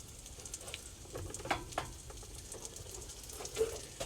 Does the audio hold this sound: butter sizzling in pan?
yes